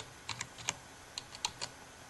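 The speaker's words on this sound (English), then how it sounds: "let me bring it up and type mount" Close, quiet clicks of a computer keyboard as a short terminal command is typed, about eight light keystrokes in uneven rhythm over a soft background hiss.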